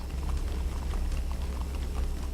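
A water fountain in the Minecraft Story Mode video game splashes and patters continuously at a steady, even level, with no voices over it.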